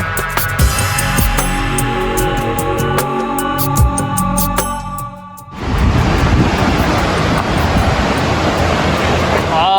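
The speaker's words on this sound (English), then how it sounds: "this is how the water is flowing right from the falls through this way, and it's going on" The river below Snoqualmie Falls rushes in a loud, continuous broadband roar that begins abruptly midway, after a stretch of other nearby noise and clicks, and stays steady to the end.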